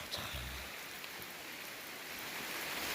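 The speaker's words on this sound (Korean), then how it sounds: "비가 많이 오고 있습니다" Heavy autumn rain on a mountain trail falls as a dense, even hiss that persists throughout at a moderate level, with a brief low thump near the start.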